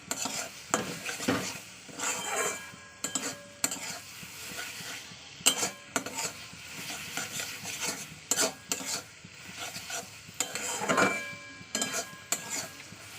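Potato and pointed gourd are sautéed with spices in a pan for a catla fish curry, a soft sizzle broken by irregular, close scraping and clinking strokes of a spatula stirring against metal.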